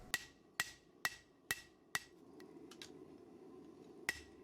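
A hammer strikes the spine of a Serbian-style steel cleaver blade forged from 80CrV2 and 15N20, five sharp ringing blows in a steady rhythm, then a pause with faint taps and one last hit.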